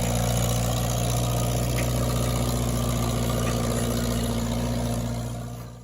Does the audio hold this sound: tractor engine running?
yes